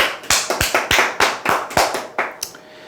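Applause at a seminar: a small group claps in quick, distinct bursts, about a dozen sharp close claps that slow and fade out toward the end.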